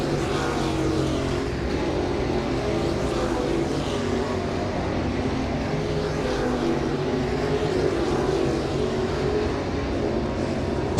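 A late model race car runs a qualifying lap at Volusia Speedway, its engine a steady, droning roar that holds level throughout, distant and unbroken.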